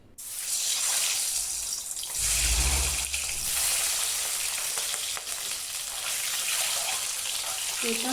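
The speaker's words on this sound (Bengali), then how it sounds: "এখানে আমি ডিমগুলো ভেজে নেব।" Eggs frying in hot oil in a wok, a steady loud hiss and crackle that rises briefly as they hit the oil, then sizzles on continuously.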